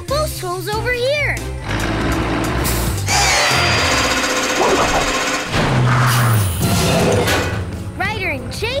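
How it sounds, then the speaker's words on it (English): Cartoon-style power drill whirring in short bursts as it drills holes at a construction site, mixed with loud chirpy character voices, music and other tool effects. "Zuma, drill both holes over here."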